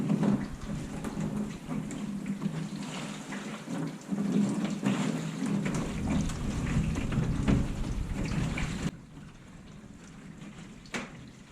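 Water sprays and patters steadily against a converted school bus roof during a leak test, a dense, hissing drumming that runs for several seconds, then drops to a softer, quieter trickle.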